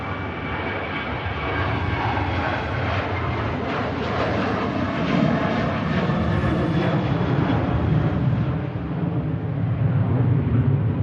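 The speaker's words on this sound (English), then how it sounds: "There goes the Ryanair for Dublin." A Ryanair jet departing Manchester Airport for Dublin roars steadily throughout with a broad, loud engine rumble that swells slightly as it climbs away.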